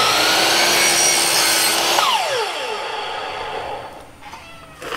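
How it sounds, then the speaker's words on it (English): A miter saw makes an angled cut through a wooden board, with a loud close whine as the blade cuts, then a descending pitch as the motor winds down into quieter rattles. "So we're here at the miter saw, and I just want to cut this a little bit long"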